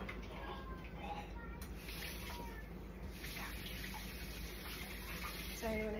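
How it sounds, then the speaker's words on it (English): Tap water runs steadily into a kitchen sink during hand washing, a constant close hiss with a few faint clinks over it. "I need to wash my hands and stuff"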